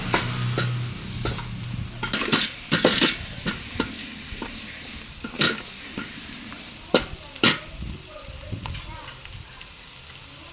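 A spoon stirs onions frying with chilli powder in a pan for egg rice, giving soft sizzling under a string of sharp metallic scrapes and clinks at an uneven pace, close by.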